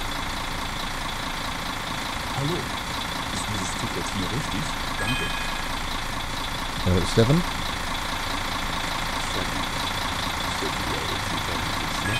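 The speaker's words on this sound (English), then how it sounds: "Should have really shut the engine down," A comfort-class tour coach idles at a hotel pickup in Tourist Bus Simulator, a steady low engine drone running the whole time beneath people talking, with a few brief knocks partway through.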